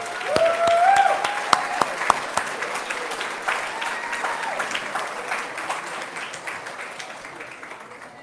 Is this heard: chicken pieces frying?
no